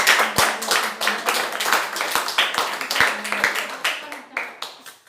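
A church congregation claps in a loose rhythmic beat of sharp repeated slaps, mixed with voices talking over it, throughout.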